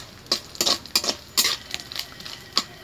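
Grated coconut frying in an iron wok, stirred with a wooden slotted spoon, giving a run of sharp metallic scrapes and clinks at an irregular rhythm over a faint background hiss, close and moderately loud.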